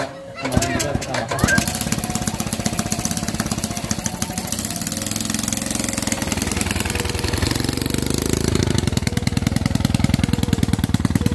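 A motorcycle engine runs at a village gathering, a loud, rough, rapidly pulsing putter that holds steady for several seconds, with speech over it at the start.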